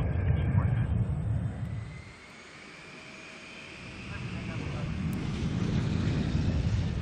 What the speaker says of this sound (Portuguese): Agora ele conseguiu decolar.